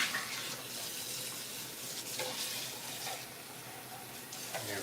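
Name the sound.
tap water rinsing out an empty tomato can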